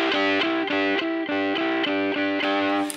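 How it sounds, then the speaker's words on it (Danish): Electric guitar in a humbucker setting driven through an overdrive pedal, giving steady, thick distortion; a series of rhythmic strummed chords rings out loud and close with no voice over it. "så er forvrængningen allerede mere konstant, fordi at som humbucker, så sender den mere signal ind i min overdrive"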